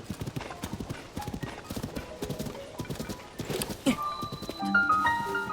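Horse hooves clip-clop in a steady quick rhythm in Tears of the Kingdom, close and clear, followed by a brief whinny and some game chime tones near the end.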